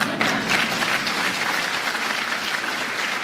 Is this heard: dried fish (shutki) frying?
no